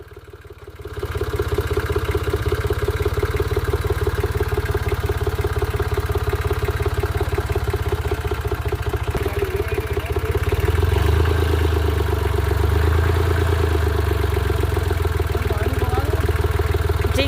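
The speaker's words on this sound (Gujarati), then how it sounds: "ટ્રેક્ટર થઈ ગયો છે ચાલુ." A tractor engine starts up close by and settles into a steady, clattering diesel idle that grows slightly louder and rougher partway through, heard alone without talk.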